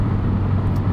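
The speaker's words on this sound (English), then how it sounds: "On pavement, if you have good hearing, you can hear it kind of burbling away in the background." A 2022 Subaru WRX Premium with a six-speed manual and its engine burbling steadily while driving on pavement, a constant low rumble with road noise heard from inside the car.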